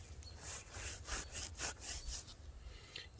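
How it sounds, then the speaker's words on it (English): A clean rag is rubbed back and forth over floor absorbent spread on a large oil spill on the ground, giving a rhythmic gritty scrubbing of about six close strokes with no speech. "So we'll take a clean piece of this rag and rub it."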